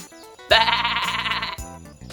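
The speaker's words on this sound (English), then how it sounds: "Why are we in a field of sheep?" A sheep gives one loud, close, wavering bleat of about a second, with a quieter background sound before and after it.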